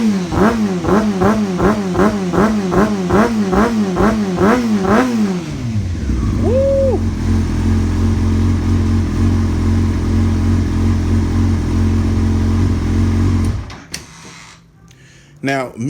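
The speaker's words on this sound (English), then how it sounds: "God, I love how these bikes sound." A motorcycle engine revving repeatedly in a quick rhythmic series of rising and falling bursts, then settling into a loud, steady idle rumble before cutting off; close and dominant.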